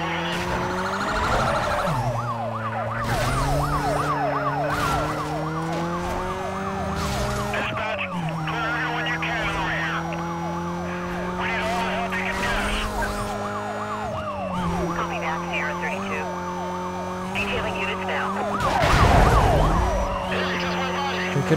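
Police car sirens wail continuously in the Need for Speed Most Wanted racing game, loud and steady with rising and falling tones over engine noise, with a brief louder swell near the end.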